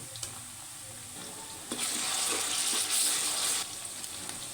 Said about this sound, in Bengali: পেঁয়াজ আদা রসুন বাটা একটু ভাজা ভাজা করে নিয়েছি।